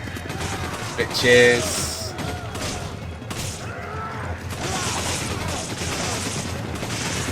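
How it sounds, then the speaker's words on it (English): Gunfire in the video game Resident Evil 5, shots and mechanical clatter mixed with game ambience and a brief shouted word from a player. "stop fucking shooting me, woman!"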